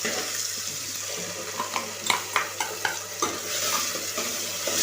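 A ground paste of tomato, onion, coconut, garlic and ginger sizzles as it fries in a pan, a steady hiss broken by several sharp scraping stirs in the middle, moderately quiet with no talking.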